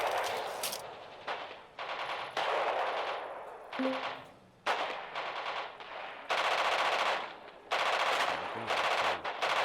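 Battle gunfire in the Radio General war game: dense, loud machine-gun bursts and volleys rattle almost continuously, broken by brief gaps, with heavy shots layered in during a raid.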